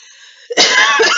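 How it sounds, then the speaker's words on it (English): A single person coughs abruptly and loudly at close range, with a short harsh burst followed by a breathy, rasping rush of air against a quieter hum. "excuse me for coughing"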